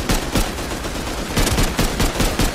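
Rapid bursts of gunfire from the Rust Console survival game, repeated sharp cracks in uneven clusters with a dense, loud, close wash between shots and no talking.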